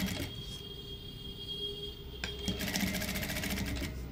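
Jack industrial sewing machine stitching a half collar neck, a steady rapid mechanical whir that shifts to a faster, brighter run partway through, close and with no talking.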